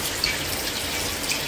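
Tap water runs steadily into a Whirlpool White Magic Classic washing machine, about three years old, as it fills for a wash; a close, continuous hissing rush with no talk.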